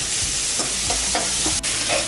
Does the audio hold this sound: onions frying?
yes